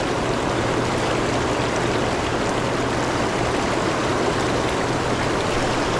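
A river stream flows with a loud, steady, close rushing wash of water, constant throughout with no voices.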